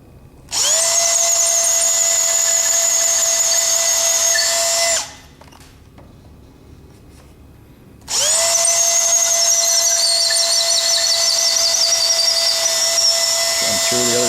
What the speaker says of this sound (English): I'm going to ream a little bit here because I found that these holes do get tight.